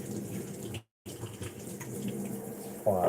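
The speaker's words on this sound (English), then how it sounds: "We're also going to turn the water down to a colder temperature." Kitchen tap running steadily while water bottles are washed, a close, continuous gush of water broken by a short silent gap, with a faint voice near the end.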